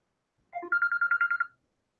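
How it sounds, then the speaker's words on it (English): A telephone rings with an incoming call, a single burst of rapid warbling trill pulses lasting about a second, clear and moderately loud in an otherwise quiet room. "Oh, got a phone call."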